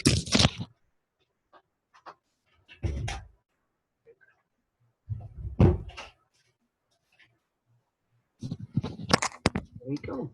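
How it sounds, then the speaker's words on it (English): Indoor door opened and closed with sharp knocks and clatters, separated by quiet gaps, as a person talks nearby. "I just need to let my cat in the door."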